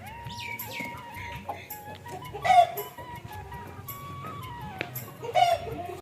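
A rooster near backyard coops gives a series of clucking calls, with two louder bursts, over low background murmur and rustling.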